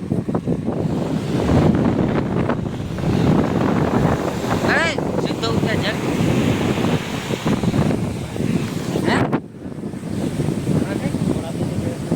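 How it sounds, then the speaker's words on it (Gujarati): Wind buffets the microphone over steady surf on the sea at Madhavpur beach, a constant loud roar of wind and breaking waves lasting throughout. "જોઈ લ્યો માધુપુર દરિયા આવી ગયા અમે"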